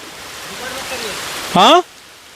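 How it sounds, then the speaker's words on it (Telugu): Heavy rain pours down while the sun shines near a forest village in Bijapur, a steady broadband hiss of falling water throughout, broken near the end by a brief, high, voice-like cry. "భారీ వర్షం అయితే పడుతుంది ఒకవైపు ఒకవైపు ఎండబడుతూనే వర్షం పడే పరిస్థితి"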